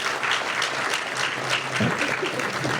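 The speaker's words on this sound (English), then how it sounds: "Let's give Mr. Barnett a round of applause." Audience applause for Mr. Barnett at a SUNY Cortland ceremony, a steady wash of many hands clapping close and loud throughout, with a brief low voice murmur near the end.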